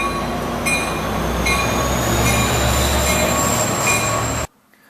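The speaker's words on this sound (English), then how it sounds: "I'm going back over to the Sounder train." A Sounder commuter train rolls loudly past on its rails, a steady roar with wheels squealing and high metallic whines throughout, no voices, cutting off abruptly near the end.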